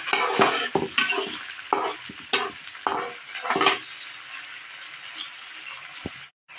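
Sardines go into a hot pan with garlic and ginger for Filipino ginisang sardinas, sizzling loudly while a utensil scrapes and stirs in bursts, the frying settling into a steady hiss.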